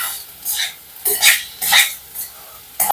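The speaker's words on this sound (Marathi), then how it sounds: "आता मी हे 2-4 वेळा असं ढवळून घेणार आहे." Varai rice being stirred and sautéed in ghee in a pan, several distinct scraping strokes of a spoon against the metal pan in an uneven rhythm, close and fairly loud, with no talking.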